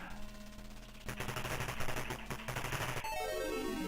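Rapid bursts of gunfire from the Atari ST game Commando, a dense run of shots that starts partway through and keeps up loud and steady, with game sound beneath.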